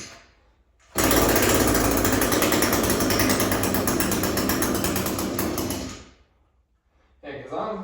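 A small engine suspected of a spark arrestor issue revs at full throttle in a sudden loud, harsh, buzzing roar lasting about five seconds before cutting off, then a brief restart at the end; no talk during the roar.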